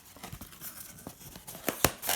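Scissors snip through paper flaps on a homemade model rocket dragster, a run of quiet close clicks and crisp cuts ending in two sharper snips.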